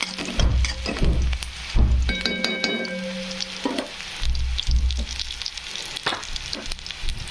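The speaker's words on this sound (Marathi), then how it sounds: "कांदा मस्तपैकी फ्राय होऊ" Salted chopped onion fries in hot oil, a continuous close crackling sizzle with occasional louder stirring bumps and a few brief tonal beeps partway through.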